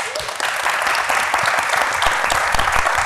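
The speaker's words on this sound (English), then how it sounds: "Give yourselves a round of applause" An audience at a panel discussion gives a warm, continuous round of applause, thick crowd clapping that stays loud and steady throughout, with no talk on top.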